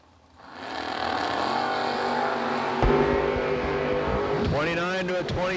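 A Camaro drag racing car sits on the starting line at a drag racing event, its engine rising to a loud, sustained rough roar with a revving surge near the end, under an announcer's voice.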